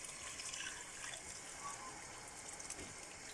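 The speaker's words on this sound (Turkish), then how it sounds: "Onu da böyle katıyorum ve suyumu ekliyorum." Water pours into a bowl holding dissolved lemon salt, a steady, close gush of liquid that runs without a break for a few seconds, with no talking over it.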